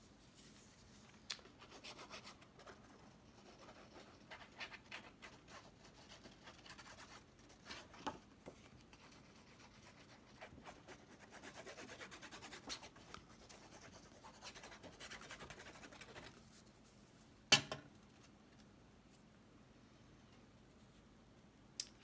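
Paper being glued and rubbed down by hand into a junk journal, with soft, close scratching and rubbing strokes in irregular bursts and one sharper tap near the end, quiet throughout.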